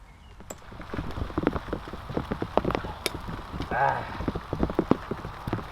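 Raindrops patter unevenly on a campsite during a campfire breakfast, close irregular taps on surfaces with a brief sizzling swell midway, moderately loud.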